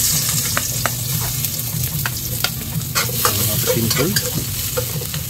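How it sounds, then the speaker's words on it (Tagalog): Garlic sautéing in a hot pan for a home-cooked fish meal, a steady loud sizzle with scraping stirs and clinks, a voice speaking briefly over it. "Gisa natin yung bawang."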